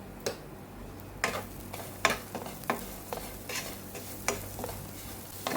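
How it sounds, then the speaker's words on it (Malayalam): Grated coconut and sugar get stirred in a hot pan, irregular spoon scrapes and taps clicking over a faint low sizzle, fairly quiet and with no voices. "പഞ്ചസാര എല്ലാം ഒന്ന് ഉരുകി അതേ പിടിക്കുന്നിടം വരെ നമുക്കൊന്ന് ഇളക്കി കൊടുക്കാം"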